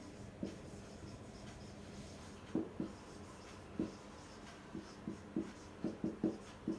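Marker or chalk writing on a board during a maths lesson, heard as faint, close, intermittent taps and strokes that come in short bursts, with a quiet steady room hiss underneath and no talking.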